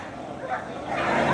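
Malinois mix guard dog at a Friday market for guard dogs, giving short close barks and yips amid busy background voices.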